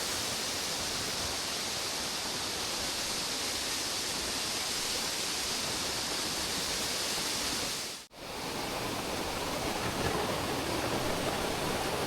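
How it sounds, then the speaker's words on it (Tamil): Steady, loud rushing of a small waterfall, a continuous broadband roar that dips briefly near the end before resuming. "ஒரு சின்ன ஃபால்ஸு, சின்ன வாட்டர் ஃபால்ஸ்."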